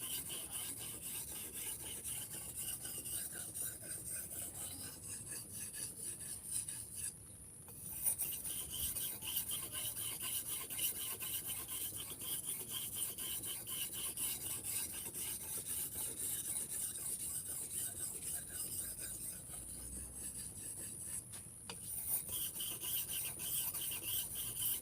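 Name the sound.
sharpening machete on whetstone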